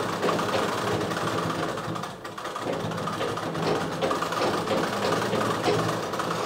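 A sewing machine hums and whirs steadily and continuously while stitching a double reinforcing seam on the shoulder joint of a Sabyasachi-style blouse, with only a brief dip in the noise partway through.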